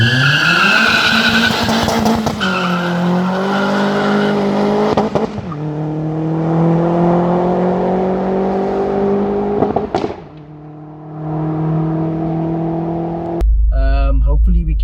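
A turbocharged Opel Astra GSI VXR revving and accelerating with squealing tires, loud rising engine tones that fall and climb again through gear changes, with a short pause near the end before another burst.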